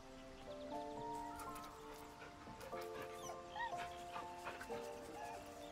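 A dog in Baldur's Gate 3 makes soft whimpering, whining calls over faint ambient game sound, quiet and intermittent while a person talks nearby.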